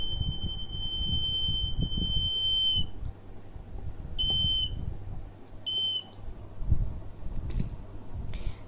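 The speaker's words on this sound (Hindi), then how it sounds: "अलार्म जो है बज जाता है" A homemade water level indicator alarm rings in steady high-pitched electronic beeping, a long tone followed by shorter bursts, over low rumbling background noise.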